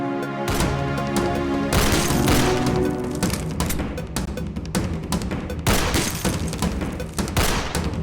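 Loud gunshot sound-effect hits land over a driving percussion track of toms and taikos, sharp cracks and booms punctuating pounding toms in a steady beat.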